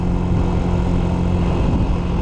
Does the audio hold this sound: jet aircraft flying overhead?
yes